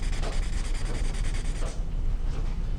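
Close, continuous scratchy rubbing of a pencil tree drawing being blended, with a steady back-and-forth texture that softens briefly near the end.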